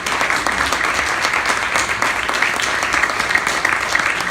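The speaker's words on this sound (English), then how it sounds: "let's give both of our candidates a round of applause" An audience at a 2017 Carrboro mayoral debate gives the candidates steady, loud applause, with dense clapping sustained throughout and no voices rising above it.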